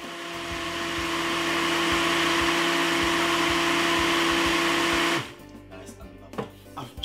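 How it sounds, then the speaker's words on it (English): A smoothie blender whirs steadily as it blends banana, peanut and cornmeal punch, climbing to a loud, even drone for about five seconds before cutting off abruptly and leaving faint clatter behind. "Then we're gonna blend it like this roughly one nice good 5 to 6 minutes."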